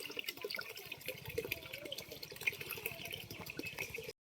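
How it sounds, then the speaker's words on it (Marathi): Water from a bucket splashes and trickles steadily for young livestock on a farm, a continuous quiet pouring and dribbling close by with no talking. "आता बारक्यांना बादलीत आणले पाणी द्यावायला"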